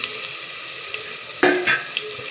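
Masala rice with onion fries in a pan, producing a quiet, even hiss, interrupted briefly near the end by a short louder clatter and sizzle burst. No one speaks.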